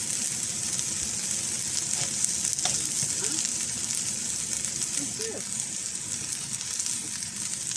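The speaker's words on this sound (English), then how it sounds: "Just quickly heat them up in the frying pan" Steady, close sizzling of food frying in a hot pan, with occasional faint clinks and stirring noises over the constant crackle.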